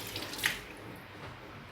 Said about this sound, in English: I'm wash off my hand.